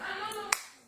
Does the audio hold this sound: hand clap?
yes